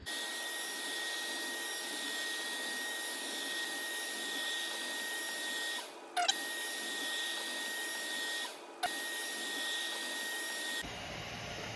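An ILIFE V3s Max robot vacuum cleaner picks up oatmeal from a floor with a steady, close whirring hum, broken by two brief bumps before the sound shifts near the end.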